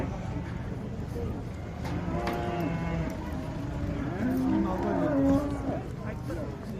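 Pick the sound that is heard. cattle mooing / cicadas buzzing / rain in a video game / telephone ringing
cattle mooing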